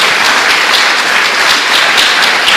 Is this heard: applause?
yes